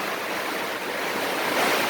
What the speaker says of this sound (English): the rain's come in now, so the wind's dropped a bit